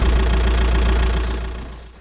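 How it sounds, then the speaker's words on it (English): A small diesel TDI engine in a van idles close by with a steady low throb and faint knocking rattle, gradually quieting toward the end. "Usually I just have to listen to the beautiful engine sounds that this diesel TDI,"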